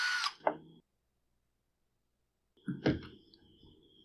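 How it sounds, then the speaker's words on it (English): A power driver spins out T20 Torx screws from the shaft cover of a Troybilt string trimmer, with two short whirring bursts separated by a silent pause, close and fairly quiet. "there's two screws on the front of the shaft that come out"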